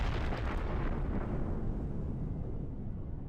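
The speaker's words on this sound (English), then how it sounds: "Yeah, big explosion with that." A ship blows up in the space game Empyrion, a deep rumbling explosion that is loud at first, then rolls on and slowly fades over a few seconds.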